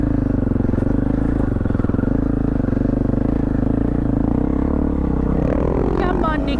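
A motorcycle doing a wheelie on an open road runs with a loud, steady engine drone close by, then near the end a burst of clatter and scraping as it flips over backwards.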